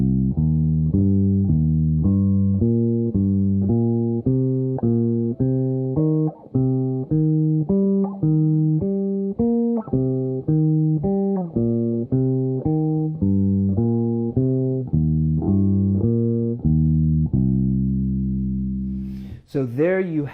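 Bass guitar playing a practice line slightly out of time, loud and close, a steady run of plucked low notes with sustained tones ending on a held note.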